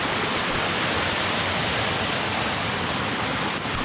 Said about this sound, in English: There's another little cascade coming down right there.